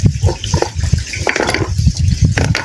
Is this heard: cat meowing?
no